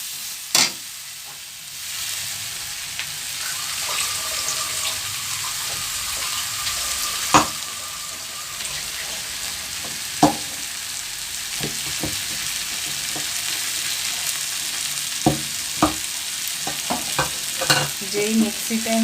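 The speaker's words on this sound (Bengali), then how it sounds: "কষিয়ে নিতে হবে" A spice paste for alur dom is stirred and sautéed in a pan with a splash of water, giving a steady close sizzle broken by scattered scraping clicks of the spoon.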